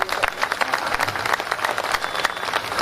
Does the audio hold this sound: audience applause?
yes